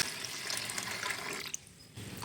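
Water pours steadily from a tap over washed lentils set to soak, a soft, continuous gushing and splashing, close and fairly quiet, that dips briefly before resuming.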